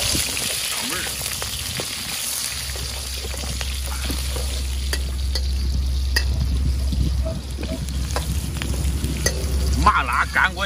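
Chicken stir-fries in an iron wok with scallion, ginger, garlic, Sichuan pepper and chili, a loud hissing sizzle over a low steady hum, with occasional scraping clinks and faint voices.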